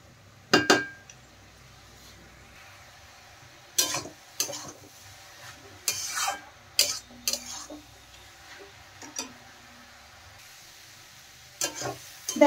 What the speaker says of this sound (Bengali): আর গাজর কিন্তু খুব সুন্দর করে ভেজে নিতে হবে।